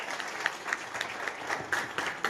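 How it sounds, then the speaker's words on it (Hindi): Applause at a pinning ceremony in Bilaspur, a moderate spread of hand claps with a few sharper individual claps standing out, steady over a couple of seconds with no speech. "जोरदार तालियां, जोरदार तालियां।"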